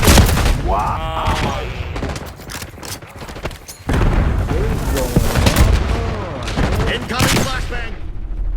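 A shooter video game fills with dense gunfire, booming explosions and a flashbang, loud and continuous with rapid bursts throughout, while players talk over the action.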